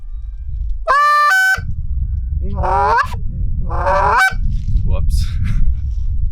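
A handheld goose call imitates geese with three loud honking bursts over a low rumbling background; someone says a single word briefly.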